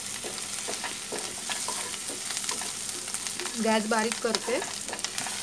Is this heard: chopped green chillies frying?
yes